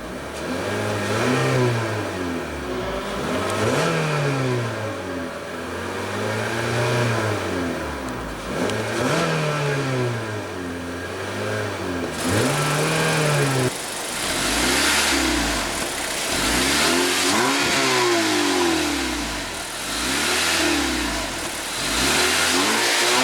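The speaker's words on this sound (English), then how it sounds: "let's go ahead and rev it up" The 2.4 L four-cylinder engine of a 2016 Acura ILX revs repeatedly while parked, rising and falling in regular swells that climb higher and come faster in the second half, loud and close with no talk.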